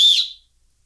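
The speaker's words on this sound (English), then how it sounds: "an emergency whistle that's resistant to corrosion and sturdier than a plastic one" A dual-tube emergency whistle, corrosion-resistant and sturdier than plastic, rated up to 120 decibels, gives one loud, shrill blast lasting about a third of a second and then cuts off into silence.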